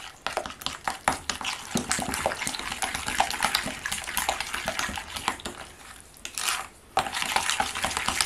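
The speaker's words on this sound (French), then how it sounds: "Alors je mélange bien." Beignet batter for carnival fritters, including rum, being stirred and mixed in a bowl, with close, continuous wet sloshing and quick clinking strokes against the bowl, steady and busy with brief pauses.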